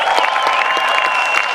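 Applause for military veterans at a Milwaukee Tea Party rally rolls on as a continuous, loud wash of many hands clapping, with faint crowd voices underneath.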